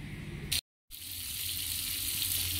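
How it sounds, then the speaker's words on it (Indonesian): Salted fish frying in hot oil, a steady loud sizzle that cuts out briefly for a moment and then resumes, continuous with no talking. "Kita goreng dulu ikan asinnya ya"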